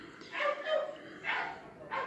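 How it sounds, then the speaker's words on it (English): Neighborhood dogs barking outside a house, a few sharp barks in uneven bursts, moderately close and clear over a quiet room. "Sorry, there's dogs barking outside."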